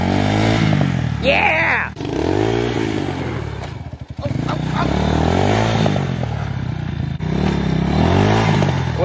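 A dirt bike engine revs hard and rasps with throttle blips, loud and close, mixed with clattering and scraping while people talk and shout over it.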